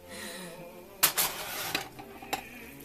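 A baked mac and cheese dish comes out of a preheated 350-degree oven: a few sharp clinks and clatters of the dish and metal against the rack, with a brief scrape, heard close and alone.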